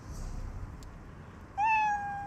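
A pet cat howls somewhere in the house, a single drawn-out meow that rises and then holds, heard slightly distant over low background noise.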